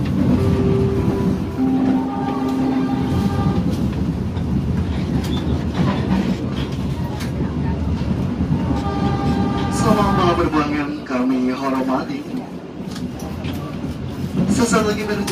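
The Dharmawangsa Express passenger train runs on rails between Semarang and Surabaya, producing a loud steady rumble with rhythmic wheel clatter and occasional squeal heard from inside the carriage, under onboard announcements and chime tones.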